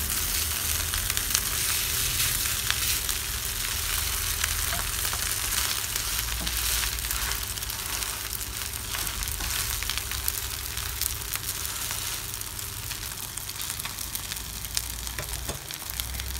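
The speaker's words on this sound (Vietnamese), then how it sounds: "Mình sẽ chiên nó vàng tiếp lần nữa là mình đưa ra là ok nha bác." Leftover rice cakes fry in a pan, giving a steady, continuous close sizzle and crackle with no talking throughout.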